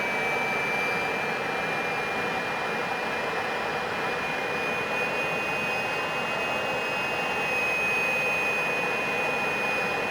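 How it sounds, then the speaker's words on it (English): A Fouga Magister jet engine in Microsoft Flight Simulator runs up after startup with a loud, steady whine and roar and a high tone rising slowly, continuous and close, with no voices. "you can hear really excellent engine startup sounds"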